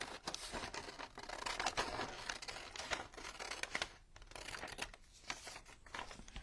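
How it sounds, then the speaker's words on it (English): Scissors trimming straight edges from paper for junk journal specimen cards: a dense run of quick, crisp snips with crinkly paper rustle, close and quiet, no voices. "I'm just going to cut a couple of straight edges."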